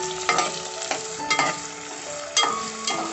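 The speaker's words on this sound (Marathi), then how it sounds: "आलं लसूण आणि हा कांदा थोडासा परतून घेऊया।" Onion, ginger and garlic sauté in hot oil for veg Schezwan fried rice, giving a steady close sizzle broken by several scraping stirs of a spoon against the pan, with no talking.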